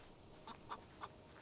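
A chicken in the survival crafting game Tales of Morrow gives three short, soft clucks in a steady rhythm, faint and distant over a low ambient background.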